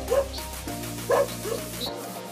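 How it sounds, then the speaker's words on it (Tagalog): Several dogs bark and yip in quick bursts, close and loud, with a whimper between barks over a low steady background hum. "Bubulabog tayo, kakagulo tuloy yung mga aso."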